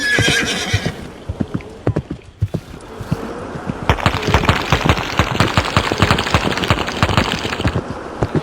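A horse in a video game whinnies loudly at the start, then its hooves clop in a fast, steady gallop through the rest, close and clear with no talk.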